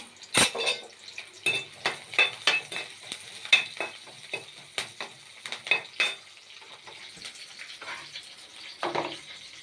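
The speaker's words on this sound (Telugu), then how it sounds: "తాలింపు గింజలు ఆనియన్స్ వేస్తున్నానండి. ఒక ఆనియన్, కరివేపాకు" Tempering seeds, onion and curry leaves frying in a pan, heard as a faint background sizzle under repeated close clinks and scrapes of a utensil against the pan, irregular and intermittent, without voices.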